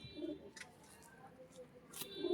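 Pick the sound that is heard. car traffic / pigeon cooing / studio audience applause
pigeon cooing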